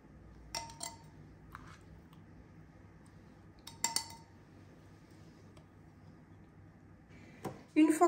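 A spoon clinks against drinking glasses in a few light, scattered taps while crushed strawberry, lemon and mint from a mortar are spooned into each glass, with a louder clatter at the end.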